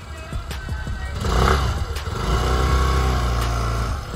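A Suzuki Access 125 scooter idles and then is revved, the engine note rising in a couple of swelling pushes before settling into a steady, close mechanical drone.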